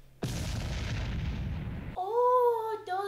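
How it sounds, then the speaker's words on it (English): Fireworks going off at a New Year celebration: a single loud boom that rumbles on for nearly two seconds, then tonal sounds follow. "Oh, those must be the fireworks!"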